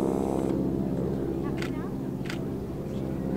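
A wing-walking team biplane flies overhead at Chartwell, its steady propeller engine droning loud and continuous, with brief faint voices breaking through.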